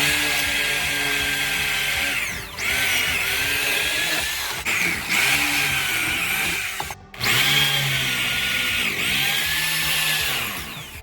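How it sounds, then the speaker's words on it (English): A power drill whines loudly and close, drilling in three long runs separated by brief pauses as it bites into wood to make a hole for a closet pole. "the hole is going to be drilled for the pole for the closet"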